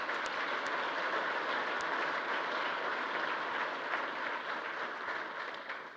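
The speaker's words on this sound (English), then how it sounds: "Yeah, you can applaud them" An audience applauding at a press conference introducing a new head football coach, a dense, steady clatter of many hands clapping throughout with a few sharper claps standing out.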